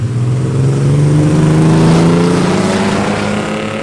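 A 1994 Pontiac Firebird V6 revs loud and close, its engine note climbing steadily then easing slightly, a continuous throaty drone with no talk over it.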